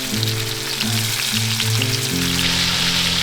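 Steak fries in a pan with a steady, dense sizzle that holds throughout, while low background music plays underneath.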